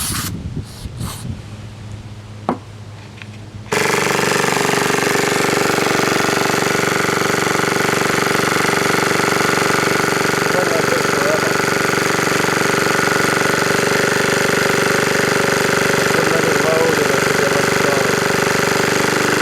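After a few seconds of quiet handling noises, a 1975 6 horsepower Evinrude outboard motor catches and settles into a loud, steady running drone that continues to the end.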